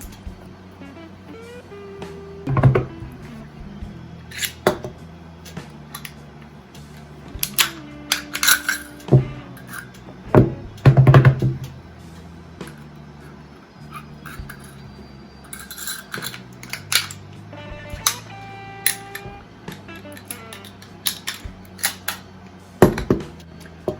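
Metallic clicks, slides and clacks from a Bulgarian Makarov pistol being field stripped and reassembled blindfolded, scattered irregular handling noises up close with a faint hum, no talking.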